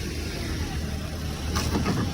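A car at a city vehicle auction runs after being jump-started, its engine giving a steady, fairly close low rumble that roughens and swells briefly partway through.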